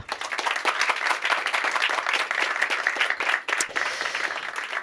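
Warm, sustained applause from an audience at a political debate, dense clapping throughout with no pauses.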